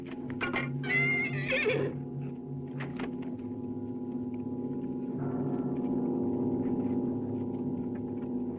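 Horses neigh in a 1963 Italian sword-and-sandal film about Perseus. A couple of sharp whinnies come in the opening seconds over a sustained low tonal hum, then the rest stays calm and steady.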